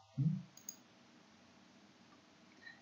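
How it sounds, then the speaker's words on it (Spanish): A computer mouse is double-clicked in a quiet room: one soft, dull click and then a second, fainter click about half a second later, with no talk. "Si ustedes le dan doble clic"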